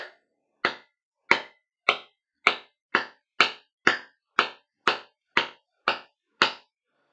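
Metal wedges being hammered back into a loose hammer head at a forge, twelve sharp, evenly spaced strikes ringing out close by, each decaying quickly, with no voices.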